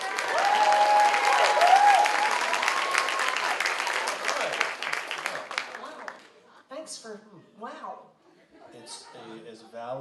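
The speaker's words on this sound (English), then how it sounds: "Clap for lust." A crowd at a SummerArts event claps loudly for about six seconds, dense applause that thins and fades out, after which a person talks alone.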